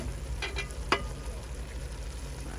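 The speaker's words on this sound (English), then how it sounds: "Sizzling." Beef stew fries in a pan with a steady, soft sizzling hiss and one brief stirring clink near the start.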